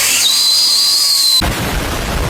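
A person attempts a finger whistle, producing a thin, steady high-pitched tone for about a second before it breaks off into breathy noise.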